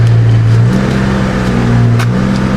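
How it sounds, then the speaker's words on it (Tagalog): A car engine idles loudly and steadily up close after a throttle cleaning, its low hum shifting slightly in pitch as it runs. "Tapos yung tunog ng makina medyo okay na siya."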